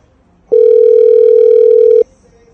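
A telephone sounds for an incoming call: one loud, sustained electronic tone lasting about a second and a half, heard alone with near silence before and after.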